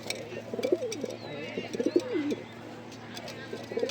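A pair of Giribaz pigeons, red checker, cooing in a loft: repeated soft rolling coos in short bursts, close and moderately loud, with faint chirps from other birds in the background.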